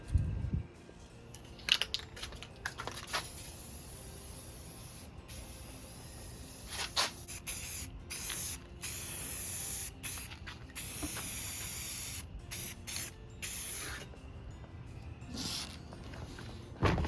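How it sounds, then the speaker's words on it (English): Spray can hissing onto a roof rack roller for a Sprinter van kayak rack, delivered in several short bursts separated by pauses, with clicks and rustles between sprays and no talk. "And then I'll give it a quick spray"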